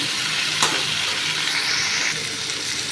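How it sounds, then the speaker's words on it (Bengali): Potatoes and red lentil fritters fry together in hot oil in a pan, a dense, even sizzle close by with a brief clink of a utensil early on. "আমি আলুটা দিয়ে দিলাম এবারে একসাথে সবগুলো ভাজবো একটু ভেজে নিয়ে"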